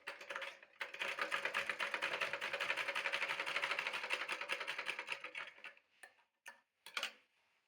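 A sewing machine stitches a folded edge of an umbrella skirt in one long, even, rapid run of about five seconds, then a few short bursts, close and alone.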